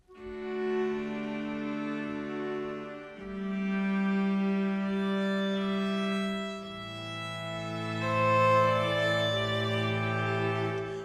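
Sampled instrument played dry with no reverb, sustained layered chords changing every few seconds, close and even with no ambient tail, with no voices.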